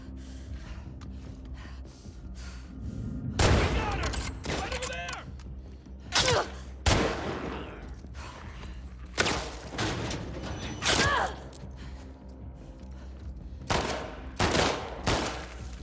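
Gunfire in The Last of Us Part 2 comes as sharp, loud single shots and short bursts spread irregularly over a low rumbling game backdrop, with gasps and brief shouted voices between them.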